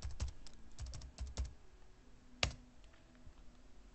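A username and password are typed on a computer keyboard in quiet, close keystrokes: a quick burst of clicks comes first, then sparser taps and a single sharper key press.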